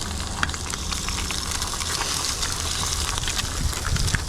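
Eggs fry on a griddle, giving a loud, steady sizzle with crackling pops throughout.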